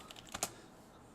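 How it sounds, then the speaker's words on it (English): Quiet computer keyboard typing: a few sparse, close key clicks with short pauses between them and no voices. "If my typing and my talking work today"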